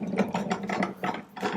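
A bench vise jaw slides along its travel, producing a close, rhythmic series of ratcheting, grinding clicks in about five quick bursts.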